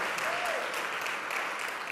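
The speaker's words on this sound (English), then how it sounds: "Let's give a round of applause" Audience applause at a Puerto Rican Day Parade breakfast where the New York governor is speaking, a continuous roomful of clapping heard fairly faintly from a distance, with a brief whistle early on and no voices over it.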